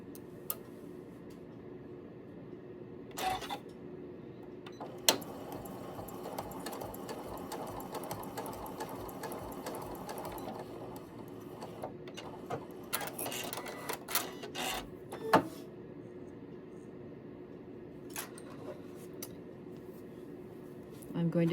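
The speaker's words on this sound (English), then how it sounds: "I'm going to place a joining seam here on the pattern line, and we're joining two pieces of fabric to the foundation." Sewing machine stitching a joining seam through two pieces of fabric onto a foundation, rapid mechanical ticking in short bursts separated by pauses and small clicks, close and fairly quiet, with no talk.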